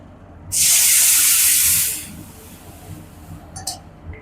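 Liquid poured into a hot pan of sautéed ingredients for mushroom soup sets off a loud, close sizzling hiss that lasts about a second and a half before fading, followed by a few faint clinks.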